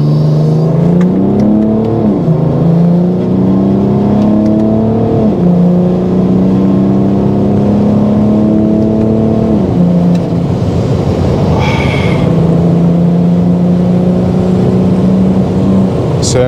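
A BMW 335d mono-turbo diesel car accelerates hard through several gears, a loud, close engine drone that climbs in pitch, drops at each shift and climbs again, ending with a short burst of wind and road noise.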